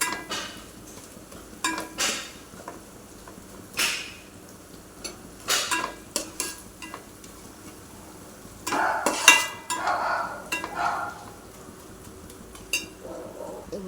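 Ground masala fried and stirred in a pan for a shark curry, a spoon scraping and clinking in irregular bursts over a soft sizzle, louder in a cluster near the end.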